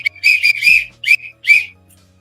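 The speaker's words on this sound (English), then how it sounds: "she ain't happy unless I blow the whistle" A hand whistle is blown in several short, shrill bursts with brief gaps between them, close and loud, over a quiet background with no talking.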